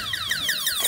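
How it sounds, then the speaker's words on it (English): An electronic alarm whoops in rapid repeated descending sweeps from a Stealth bomber NB power alarm system, loud and continuous throughout. "Oh, now it's beeping."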